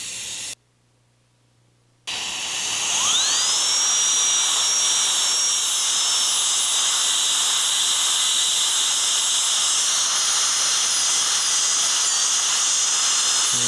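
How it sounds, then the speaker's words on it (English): A high-speed dental handpiece smooths the rough edges of a tooth during endodontic hemisection surgery. After a brief silence it spins up to a loud, steady, piercing whine and keeps running with a constant airy hiss to the end. "Now we'll be going to the high-speed handpiece to smooth the rough edges."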